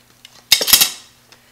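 Tender cooked eggplants for baba ganoush are dropped into a bowl, making one short, close clatter of dish and utensil that rings out and fades quickly in a quiet room.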